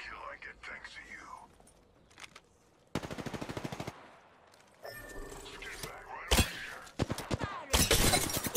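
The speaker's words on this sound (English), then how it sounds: "Listen up, I'm getting shot at." Bursts of automatic gunfire and sharp shots in the shooter game Apex Legends, coming in rapid rattling volleys between quieter gaps, loud and close, with scattered impact cracks.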